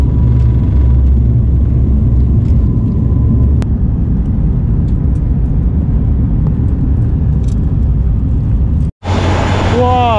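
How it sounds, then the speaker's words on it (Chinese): Small aircraft in flight over remote Indonesian Papua, a steady loud engine drone and rumble filling the whole stretch, with a brief dropout near the end before the hum resumes alongside a bit of other noise. "这我们只有坐那种小型飞机啊，"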